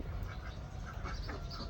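Domestic ducks about two months old quack in a steady, low-level jumble of calls, moderately near, with constant background noise and no talking.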